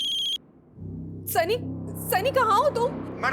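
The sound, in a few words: landline telephone ringing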